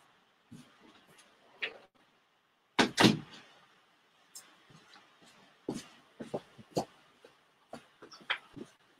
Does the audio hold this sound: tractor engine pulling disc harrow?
no